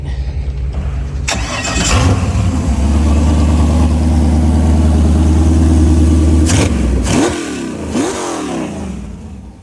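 A Cummins boat engine cranks and catches, then runs at a steady, rumbling idle before being revved twice in quick succession near the end.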